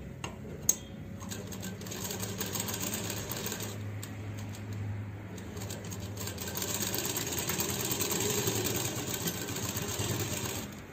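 A sewing machine stitches the sleeve of a lehenga-style dress. It gives a steady, continuous mechanical whirr with rapid ticking that lasts throughout, fairly close and even in level.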